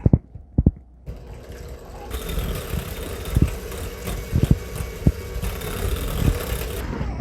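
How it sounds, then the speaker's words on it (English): An electric hand mixer combining a chocolate fat bomb mixture of butter and cream cheese, whirring steadily after a short pause with knocks and bumps of the beaters against the bowl. "we're just gonna get our hand mixer and combine"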